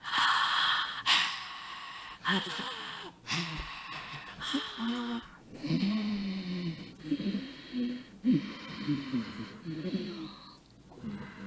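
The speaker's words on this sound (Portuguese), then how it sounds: "A respiração é pela glote. Então, eu ensino meus alunos a começar a fazer assim, ó." Ujjayi yoga breathing through the glottis, a series of raspy, hissing breaths drawn in and pushed out in slow cycles, close and fairly loud, with a voice making throaty sounds between them.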